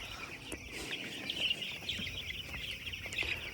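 A dense chorus of many young chicks peeping and chirping continuously inside a farm shed, with faint clucking mixed in, all at a steady moderate level.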